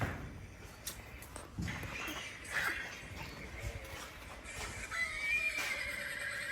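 A horse at a rural animal sale whinnies loudly several times over low background noise, with a few hoof clops and a distant voice now and then.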